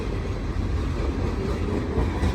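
Heavy, steady rumble of a CP freight train rolling past nearby, a dense low roar with faint rail clatter throughout.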